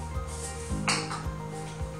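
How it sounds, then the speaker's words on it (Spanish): A greased frying pan is put down on a kitchen counter, giving a single short metallic clink amid faint soft knocks in a quiet room, no voices. "Entonces aquí dejamos a un lado lo que es el sartén ya engrasado."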